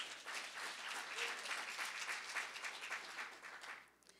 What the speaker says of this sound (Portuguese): Aplauda o Senhor, glória a Deus